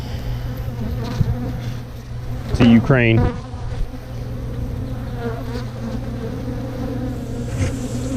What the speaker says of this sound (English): So there's so many bees on my veil